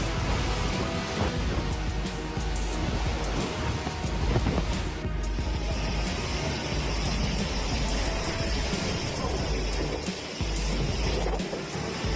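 Heavy rain pours steadily in a flooded city street, a dense continuous hiss with low rumbling and splashing underneath, loud and unbroken for the whole stretch.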